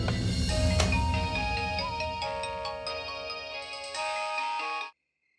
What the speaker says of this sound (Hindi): ए नितिन, इतनी रात को क्यों फोन किया?